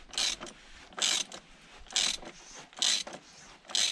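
A hand ratchet snugs an oil drain plug on a BMW, five short bursts of rapid clicking about a second apart, close and fairly quiet, with no talk.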